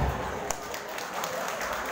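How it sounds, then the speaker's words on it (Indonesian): An audience at an Indonesian school gathering for SMP Negeri 1 breaks into applause, a dense, continuous wash of many hands clapping together that stays steady for a couple of seconds, with faint voices mixed in. "katakan terima kasih, tepuk tangan"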